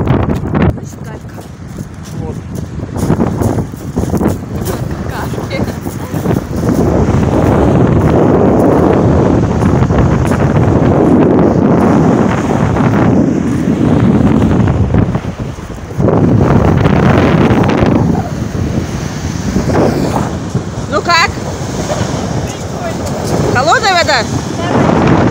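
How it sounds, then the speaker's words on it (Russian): Wind buffeting the microphone and surf washing over a pebble beach, a loud roaring rush that swells and ebbs, with people talking intermittently underneath. "Галечный пляж."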